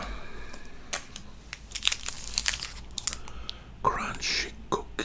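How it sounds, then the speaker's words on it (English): Crunchy cookie dough being chewed close to the mic, with crisp bites and crumbly crunches coming in irregular bursts between soft whispered talk. "crunchy cookie dough"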